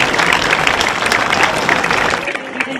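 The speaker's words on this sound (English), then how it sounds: "Let's give all 8 and 9 of these kids a huge round of applause." An audience in an arena at a junior livestock show gives the young exhibitors a round of applause, a broad, even wash of clapping from many hands with a faint murmur of crowd voices underneath.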